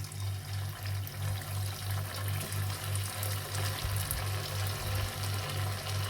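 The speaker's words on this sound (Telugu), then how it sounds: "2-3గా వేసుకొని డీప్ ఫ్రై చేసుకుందాం" Sago snacks deep frying in hot oil, a dense continuous sizzle and bubbling with a steady pulsing low hum throughout, close and even, with no voices.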